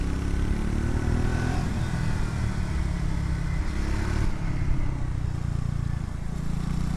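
Triumph Scrambler X400 motorcycle cruising around 60 km/h, a steady mid-pitched engine drone with heavy wind rush at the microphone throughout.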